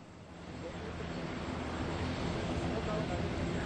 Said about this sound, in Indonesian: Pesawat Boeing TNI AU yang membawa bendera pusaka dan teks proklamasi tiba di Balikpapan